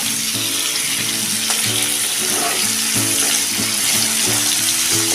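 Red pumpkin sautéing in hot oil in a pan, a loud continuous sizzle and crackle alone without talk, with a faint repeating scraping pattern underneath.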